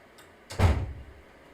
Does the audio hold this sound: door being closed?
yes